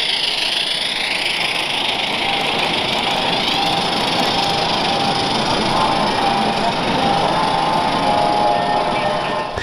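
A 1:20.3-scale model of a Rio Grande narrow-gauge steam locomotive runs on a track layout at a train show, giving off a loud, even, high motor whir that holds steady for nearly ten seconds.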